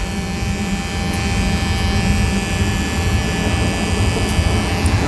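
Steady electric buzzing hum of a trimmer motor running continuously at close range, with no pauses.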